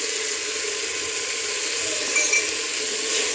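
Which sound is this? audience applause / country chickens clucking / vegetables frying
vegetables frying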